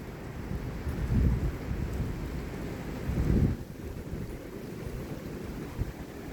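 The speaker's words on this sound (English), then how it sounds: "this strong thunderstorm is bringing us a lot of wind and rain" Strong thunderstorm over southeastern Pennsylvania in the evening, a steady wash of heavy rain and gusting wind with two deep rumbling surges of thunder, loud and continuous with no voices.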